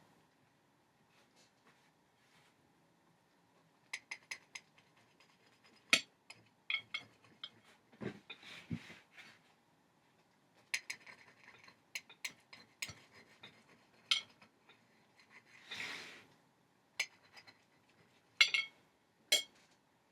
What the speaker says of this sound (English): we're going to cut the French cake into pieces with our dinner knife